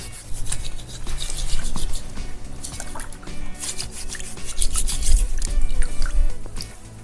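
Jerusalem artichokes, or topinambur tubers, being rinsed in water, with steady splashing, dripping and trickling close by, continuous and moderately loud throughout.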